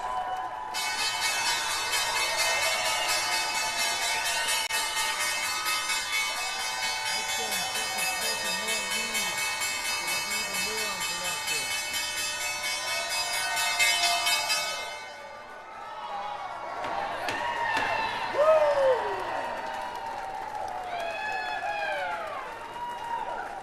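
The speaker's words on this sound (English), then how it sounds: "Time now for the closing bell." The stock exchange closing bell rings in a long, loud, continuous metallic clang for about fifteen seconds over a cheering trading-floor crowd, then stops as applause and chatter carry on.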